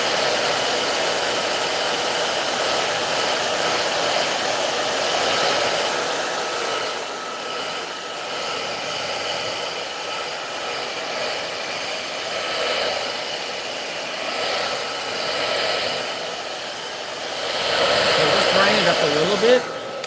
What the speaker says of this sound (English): I'm going to come in with the hair dryer.